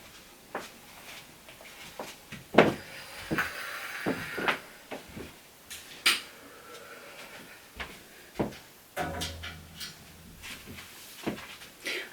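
IKEA Alex drawers, two units stacked, slide open and shut repeatedly in a small room, giving a series of sharp wooden knocks and rolling scrapes at irregular intervals.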